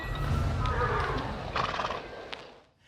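A horse whinnies under a steady low rumble, with scattered hoof clops near and fairly loud before fading at the end.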